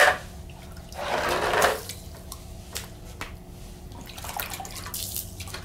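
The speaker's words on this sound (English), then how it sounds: "I'm gonna use a hose to wash off the excess of waste" Garden hose water rinsing aquarium filter socks on concrete outdoors, a hissing spray surging for about a second then trailing into scattered drips and splashes, moderately close.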